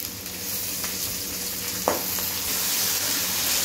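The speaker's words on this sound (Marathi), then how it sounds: "बघा कढीपत्ता घातलेला आहे, चांगलं परतून घ्यायचं तुम्हाला।" Curry leaves and green chillies sizzle steadily in hot oil in a pan for poha chivda, a loud, continuous frying hiss with a brief stir partway through.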